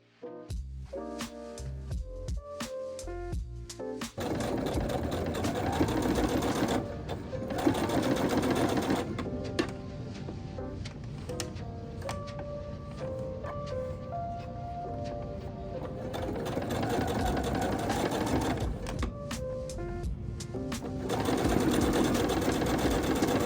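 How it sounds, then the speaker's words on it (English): A sewing machine runs nearly nonstop along the turned edge of a denim patchwork blazer, its rapid mechanical chatter steady and close after a few short starting bursts, with a brief pause partway through. "turn that edge under along the stitching and sew using a straight or zigzag stitch"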